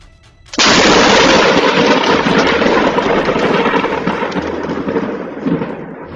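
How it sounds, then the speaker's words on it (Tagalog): A sudden, violent thunderclap from a powerful nearby lightning strike bursts in after a brief quiet, then rolls and rumbles loudly for several seconds before slowly easing. "sa lakas ba naman ng kidlat na tumama malapit sa kanila"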